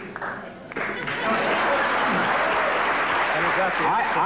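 A studio audience applauds loudly and steadily at a 1979 Tonight Show taping, swelling after a quieter start, with faint chuckles and talk buried beneath the clapping.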